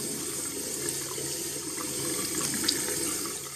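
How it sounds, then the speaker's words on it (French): Water running from a tap as straight Brazilian hair extensions are rinsed, a steady close splashing stream with small shifts as the hair moves under it, no talking. "Vraiment bien rincer pour tout retirer, pour ne pas avoir de crasses qui s'entassent"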